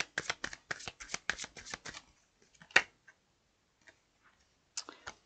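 Tarot cards are shuffled close up in a quick run of crisp riffling flicks, then a few scattered taps and slaps as the deck settles, with a brief burst of shuffling again at the end.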